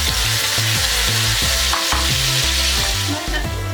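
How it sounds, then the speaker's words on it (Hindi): Thin-cut potato strips fry loudly in a pan alongside chicken, a constant close sizzle broken by the regular rhythmic scrape and clatter of stirring. "अब हम ये इसमें डाल दें और इसको भी फ्राई करेंगे।"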